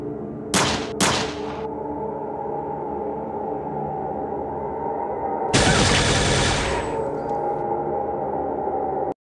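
Two sharp, loud gunshots near the start, then a sustained burst of rapid fire later, over a low electronic hum, in a Fallout video game.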